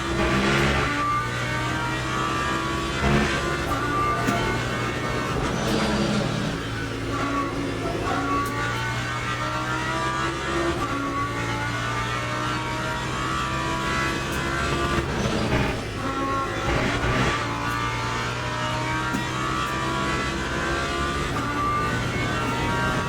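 BMW and McLaren racing cars in the racing game Le Mans Ultimate roar continuously, engines revving and shifting through gears with loud, dense whine, several cars overlapping at close range.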